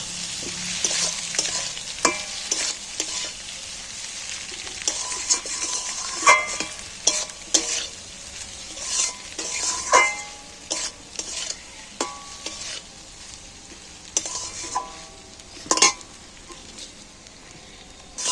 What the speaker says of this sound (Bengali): এইবার আমি একই সাথে একটু নাড়াচাড়া করে ভেজে নেব